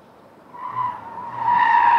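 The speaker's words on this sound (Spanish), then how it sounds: "No hemos logrado superar la maniobra de esquiva sin derribar conos por encima de 70 km por hora" A 2020 Peugeot 2008 SUV's tyres squeal during an evasive-manoeuvre test among cones: a sustained, rising, high-pitched screech that grows louder and holds to the end, with no voices.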